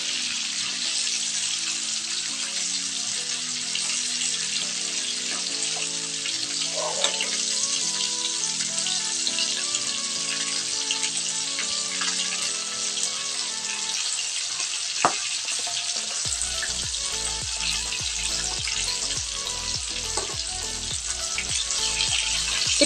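Buttered garlic chicken feet fry in a pan with a steady, close sizzle and crackle, small pops and occasional stirring clatter throughout, and no talking.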